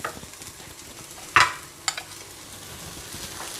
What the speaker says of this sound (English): Keep stirring it on low flame.